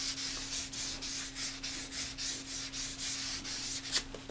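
A guitar body is wet-sanded with soapy 600 grit sandpaper for leveling, making close, soft, rhythmic back-and-forth rubbing strokes at an even pace.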